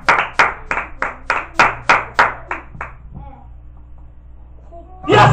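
A church congregation claps for Jesus Christ: about ten loud, evenly spaced claps in a steady rhythm that then die away. A voice starts up right at the end.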